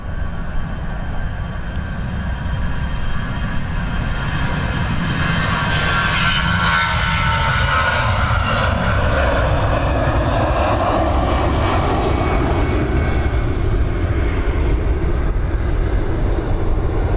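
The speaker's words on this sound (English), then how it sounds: "this A320 heading over to Bilbao, operated by Aer Lingus" A 14-year-old Aer Lingus Airbus A320 departing Dublin Airport for Bilbao produces a loud, sustained jet roar that swells and shifts in pitch as it climbs away, continuous for the whole stretch.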